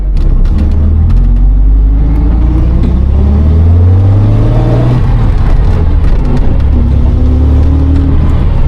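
A powerful supercar engine rumbles and revs steadily up and down, loud and close, as if heard from inside while driving.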